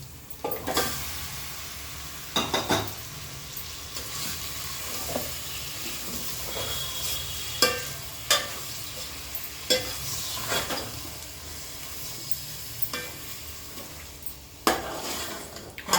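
Onion paste frying in a pot for chicken pulao: a continuous soft sizzle with repeated sharp clinks and scrapes of a metal spoon stirring against the pot, spread across the whole stretch.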